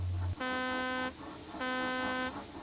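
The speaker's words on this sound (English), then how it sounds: "she heard an unfamiliar horn" Two long, loud blasts of a deep, chord-like diesel locomotive horn, separated by a short gap, over a rumbling background.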